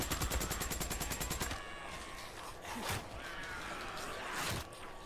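Fast, evenly spaced automatic gunfire fired at a zombie horde in the Days Gone video game, a steady loud burst for about a second and a half, then scattered single shots and distant crowd noise.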